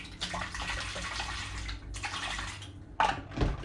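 A bottle holding no-rinse sanitizer liquid is shaken hard, giving a wet, churning slosh that fades briefly, then returns in two short sharp bursts.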